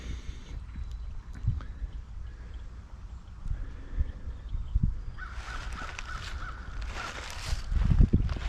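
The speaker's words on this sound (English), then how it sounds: "We have water and a crow." A crow caws several times in a row near water, the calls fairly close and clear over a steady outdoor ambience with soft rustling and footstep-like thumps.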